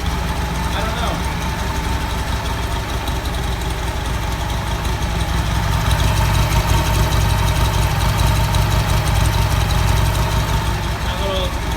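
A Buell XB12R motorcycle engine idles steadily at close range after an idle adjustment on a project bike, a continuous low rumble that grows slightly louder midway and never stops.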